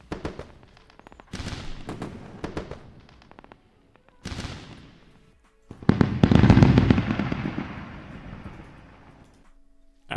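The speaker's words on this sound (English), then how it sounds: "Let's go with the fireworks." A fireworks sound effect in a live trading stream: sharp bangs and crackling bursts that come close and loud in several rapid volleys, ending in a long dense barrage that fades out.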